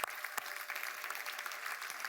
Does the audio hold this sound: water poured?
no